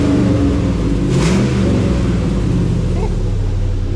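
The engine of a Willys Wagon overlander roars loud and close as the throttle is whacked once, a continuous heavy rev, with a voice speaking over it.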